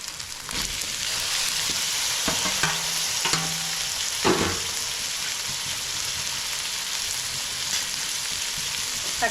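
Tomatoes tossed into a pan with sautéed ginger garlic paste for a snail gravy crackle and sizzle loudly, with repeated scraping stirs of a spatula against the pan over a continuous frying hiss.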